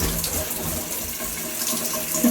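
Water runs steadily from a shower tap while a dog is being showered, a continuous close splashing hiss with faint variations as the stream shifts.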